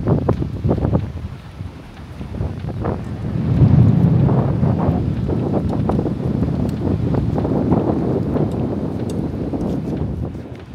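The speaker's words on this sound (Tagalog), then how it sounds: "Sarap ng hangin." Strong wind buffeting the microphone at the end of a seaside boardwalk, a continuous loud rumbling roar with gusts and no talk.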